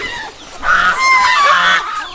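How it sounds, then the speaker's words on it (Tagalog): Geese on a free-range farm honking loudly and close, a cluster of nasal overlapping calls rising and falling over about a second and a half, with faint outdoor background noise. "Ito ang ating mga gansa."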